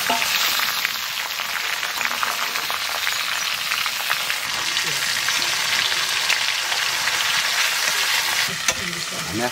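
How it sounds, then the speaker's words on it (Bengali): Chicken meat frying with onions in a pan, a steady dense sizzle and crackle running throughout at close range with no talk. "পেঁয়াজ দিচ্ছি আমাদের পেঁয়াজটা হয়ে গিয়েছে এইবার মাংসটা ফেলে দেবো"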